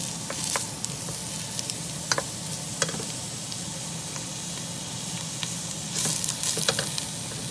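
Onion sizzles steadily in a pan for an Italian tripe tomato sauce, a constant close frying hiss broken by occasional sharp clicks and scrapes from stirring.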